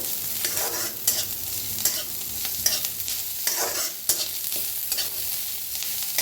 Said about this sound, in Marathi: छान भाजलाय बघा कांदा अद्रक आणि लसूण कढीपत्ता